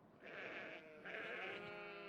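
A sheep on a farm in Gothic II bleats twice in quick succession, soft and somewhat distant, with no talk over it.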